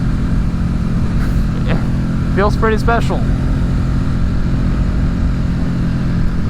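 A Ducati Streetfighter with a 90-degree V-twin engine drones steadily and low while the bike is ridden, a continuous engine hum under someone talking.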